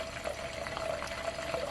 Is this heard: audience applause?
no